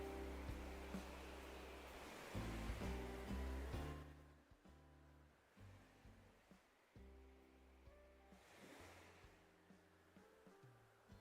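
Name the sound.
water sounds from the Animal Crossing video game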